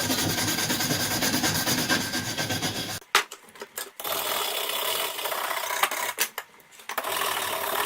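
A wire brush scrapes rust from an iron railroad spike in rapid back-and-forth strokes, a harsh, steady rasping that stops briefly near the middle and resumes with short gaps.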